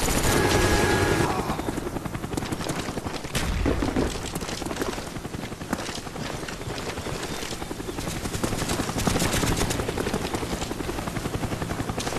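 A Huey helicopter in Call of Duty: Black Ops on the Stadium map drones loudly and continuously, mixed with bursts of gunfire and booms of in-game combat.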